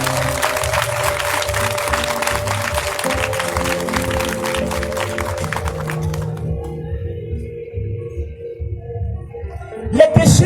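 A church congregation claps and cheers for Jesus in steady, dense applause that fills the room, fading out near the end before a brief loud burst.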